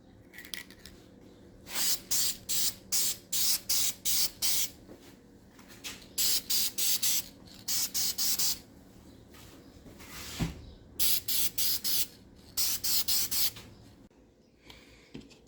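A second coat of spray paint goes onto a Ford F150 bumper in clusters of short, loud hissing bursts with brief pauses between them, close by, plus a can rattle near the middle and no talking.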